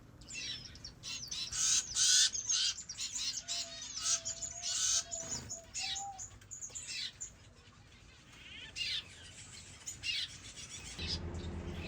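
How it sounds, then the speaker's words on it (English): Finches chirp and squeak in quick, repeated bursts close by while feeding chicks in an aviary, busy high-pitched calls with brief pauses between them. "It's fascinating to watch how finches feed their babies."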